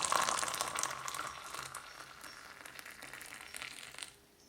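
Water heated to 80 degrees is poured into an AeroPress over coffee grounds, a steady close splashing hiss that stays even and then thins out and stops near the end.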